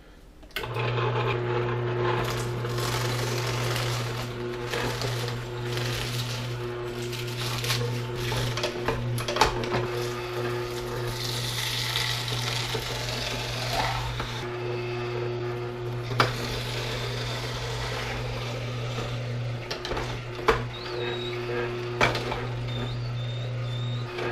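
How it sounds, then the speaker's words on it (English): A juicer machine runs steadily as mixed produce, including watermelon and greens, is fed through it, giving a continuous loud motor hum with irregular clunks and grinding bursts throughout. "I like to mix the produce as I'm running it through the machine"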